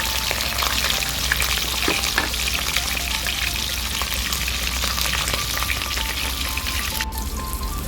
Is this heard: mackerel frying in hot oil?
yes